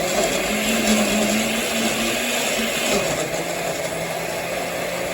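A blender mixes a strawberry banana smoothie with strawberries and water in a cooking class, running as a steady, loud whirring drone that holds for the whole stretch with no pauses.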